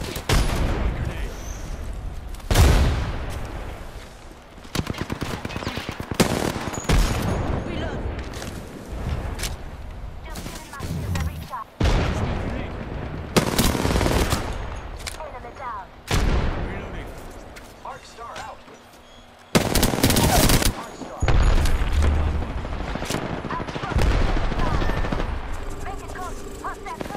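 Rapid bursts of automatic gunfire and single shots crack loudly in a team shooter video game, broken by short pauses and heavy blasts, with a voice talking over the combat throughout.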